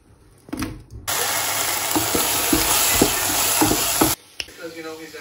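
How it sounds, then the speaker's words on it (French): Onions hit a hot pan and fry with a loud, steady sizzle for several seconds, with faint stirring knocks underneath, before the hiss cuts off abruptly. "Je vais cuire les carottes, non pas les carottes, les oignons en premier."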